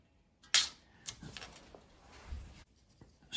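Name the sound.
scoring sheet steel along a steel rule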